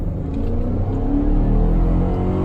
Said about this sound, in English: So I'm going to gun it here in this back road.